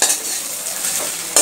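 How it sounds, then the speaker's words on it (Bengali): Leftover roti pieces fry in a pan over a medium gas flame, a short, steady close-up sizzle ending in a quick spatula scrape, with no speech. "এবার রুটিগুলোকে আমি ভালোভাবে ভেজে নেব।"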